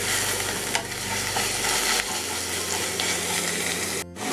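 Onions frying over a high gas flame in a pan for Moghlai chicken handi, a steady close sizzle with scraping stirring strokes running through it, no voices.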